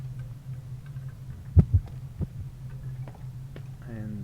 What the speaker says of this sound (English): You heard the heartbeat temporarily.